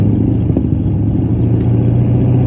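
A Ford Mustang GT with its muffler deleted rumbles close up at a steady, loud idle, a deep continuous exhaust burble with no voices.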